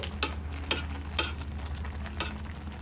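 Carrot halwa with sugar being stirred in a pan, a soft steady sizzle broken by four evenly spaced scraping strokes of a spoon against the pan.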